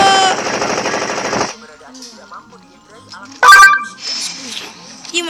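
A burst of rapid gunfire from a pistol in the video game Blitz Brigade, loud and dense at the start, then a sharp single shot and scattered game effects afterward.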